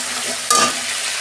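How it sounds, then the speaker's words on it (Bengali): Ginger and green chili paste fries in a pan and is stirred, a steady close hiss broken by one brief, louder scrape of the spatula partway through, with no voices. "আদা কাঁচা লঙ্কা বাটা দিয়ে আমি একটু কষে নিচ্ছি।"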